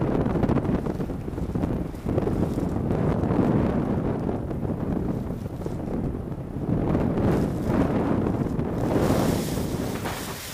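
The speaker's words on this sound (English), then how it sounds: "Wind is good." Wind buffeting the microphone during a paragliding flight, a loud continuous roar that swells and eases over several seconds, with no talk.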